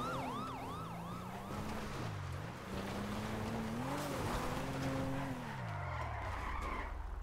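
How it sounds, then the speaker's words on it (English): A police car siren wails in a video game, its rising and falling tone clear at first before fading under a revving car engine and skidding tires. "Oh, police car."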